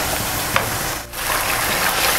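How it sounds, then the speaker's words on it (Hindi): Chicken pieces fry in a pan with browned onion and garlic, giving a loud, steady sizzle that dips briefly as the food is stirred, with no voices. "अब हम इसके अंदर चिकन डालने के बाद हम इसे अच्छी तरह फ्राई करेंगे।"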